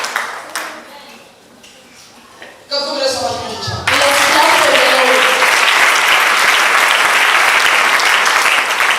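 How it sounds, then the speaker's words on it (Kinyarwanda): A church congregation breaks into loud, sustained applause, building from scattered claps into a dense, continuous roar of hands that carries on without talk over it. "Let's clap for the Lord."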